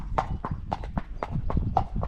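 A ridden Friesian horse's hooves clip-clop in a steady, even rhythm, about four distinct strikes per second, close and clear with no talk.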